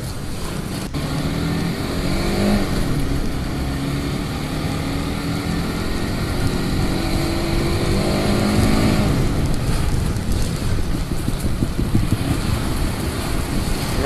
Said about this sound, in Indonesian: Nanti sih emang ini knalpotnya pengen gue ganti.